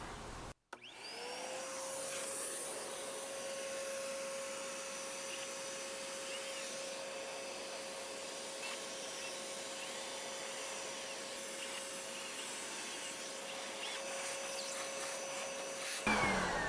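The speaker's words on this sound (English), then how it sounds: "I'll start the vacuum and have it going so it's ready to go" A vacuum cleaner starts up and runs steadily while a dryer vent duct is cleaned, a loud continuous whine with a constant pitch and airy rush, cutting off near the end.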